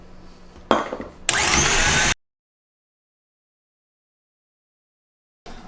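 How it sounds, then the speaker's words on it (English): An electric whisk beats cream cheese into a cherry and almond cake mixture in a brief, loud whirring burst after a couple of knocks, then cuts to silence before the whirring briefly returns. "While whisking, you need to add the cream cheese into it too."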